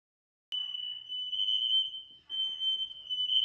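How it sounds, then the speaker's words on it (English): Smoke detector alarm going off in a house with smoke inside, a loud piercing continuous tone that briefly dips and resumes, close with no talk. "The fire alarms was going off"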